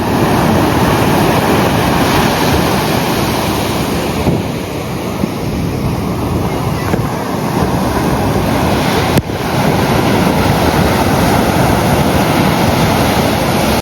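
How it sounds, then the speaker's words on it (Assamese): Loud, continuous surf roars from sea waves breaking on Puri beach, a dense wash of noise with swells and dips, and wind buffeting the microphone. "ইয়াৰ সাগৰৰ শব্দ"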